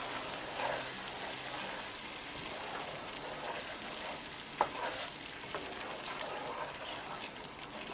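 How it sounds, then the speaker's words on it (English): Egg peas curry masala being stirred in a pan, a steady soft sizzle with scraping, clinking stirs and one sharp knock of a utensil, close and moderately quiet with no talking. "Mix it."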